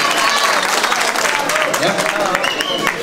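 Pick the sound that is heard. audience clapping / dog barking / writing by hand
audience clapping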